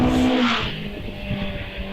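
A race car launches off the start line at the Prescott hillclimb with a loud engine roar and a brief tyre squeal that fades as it pulls away, heard continuously without any speech.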